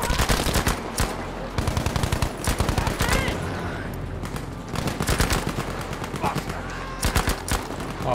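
Rapid automatic gunfire from the World War II shooter Battlefield V, loud bursts of machine-gun fire and scattered shots running almost continuously, with players talking over the shooting.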